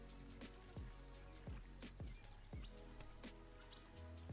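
Small waterfall in the zoo-building game Planet Zoo, a steady soft splashing and trickling of water with a few brighter drip-like plops repeating through the clip, faint and continuous with no talk.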